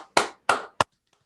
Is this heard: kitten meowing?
no